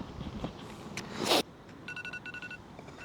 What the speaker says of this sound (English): And that was my alarm to get up for work.